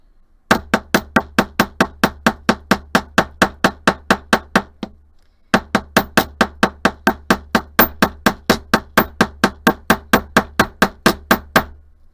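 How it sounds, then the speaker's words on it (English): Steady, evenly spaced hammer blows ring out on metal wire for crystal earrings, a long run of sharp strikes, a brief pause, then another equally regular series. "just flip your metal over and continue hammering exactly as you were"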